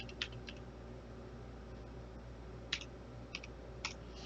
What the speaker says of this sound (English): I'm going to type in that password.